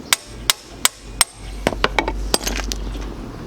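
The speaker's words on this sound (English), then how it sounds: "I have my impact driver, I'm just going to use the impact driver on that too." Impact driver loosening a steel bolt threaded into the aluminum motor of a 1981 Suzuki GS1000G, giving sharp hammering bursts: four spaced loud impacts, then a faster run of lighter rattling blows over a low hum.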